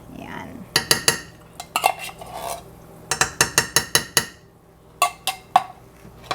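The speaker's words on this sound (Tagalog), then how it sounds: "ihalo lang natin hanggang ma-incorporate na siya sa ating sauce" A utensil stirs cream of mushroom into pancit palabok sauce in a pot, giving irregular bursts of metallic scraping and clinking with short pauses between.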